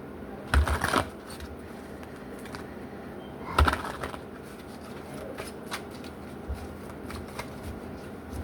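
Tarot cards shuffled during a reading, two short riffling bursts standing out against a steady low background hum, followed by faint scattered card taps.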